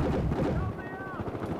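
Rapid bursts of gunfire in the video game Battlefield Hardline crackle densely over a low rumble, with a brief ringing tone mid-clip.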